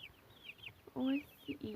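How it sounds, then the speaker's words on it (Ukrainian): Chicks and chickens, including some bantams, cluck and chirp in short bursts, with a louder cluck around the middle, over a quiet farmyard background. "Ось тут є в мене такі курчатка."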